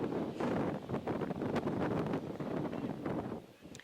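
Gusty wind buffeting the microphone in rough, uneven bursts at an outdoor baseball game, loud and close, easing slightly at the end.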